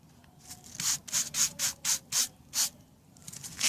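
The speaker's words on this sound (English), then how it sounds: "So the brush actually forces the sand inside." A stiff brush scrubs sand into a crack in a concrete driveway in about eight rhythmic, gritty strokes, close and fairly quiet, with no talking.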